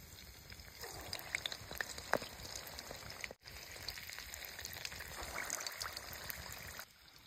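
Urad dal vadas deep-frying in oil make a soft continuous bubbling sizzle at a distance, faint and steady with a few small pops and a brief drop partway through.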